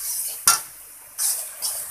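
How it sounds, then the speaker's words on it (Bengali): Spices such as coriander, turmeric and chili powder being stirred and fried in a pan: a sharp scrape near half a second, then two softer stirring swishes over a faint frying hiss, with no talk. "এখন মশলাটাকে ভালো করে কষিয়ে নেব।"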